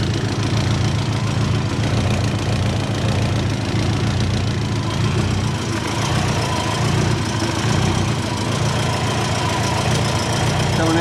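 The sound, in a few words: Subaru Forester engine idling, exhaust chuffing from a leak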